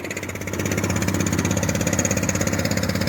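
A small engine on a DC generator used as a battery bank charger runs after a pull-cord start, a loud, close, rapidly pulsing chug that steadies and grows slightly stronger after half a second.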